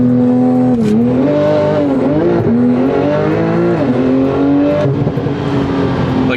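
A Nissan S15 engine roars loudly and continuously, its pitch climbing and dipping through quick gear shifts as it accelerates hard, close up.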